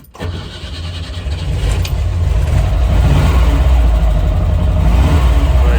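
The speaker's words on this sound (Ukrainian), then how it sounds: "Двигун теж подобається трошки газу і" A car engine starts and then revs up, climbing into a loud, sustained roar close by.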